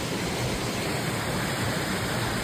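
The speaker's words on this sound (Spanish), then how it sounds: "Y aquí está la cascada." El Hayal waterfall in Boyacá, Colombia, roars as a dense, steady rush of falling water, loud and close, with no voices.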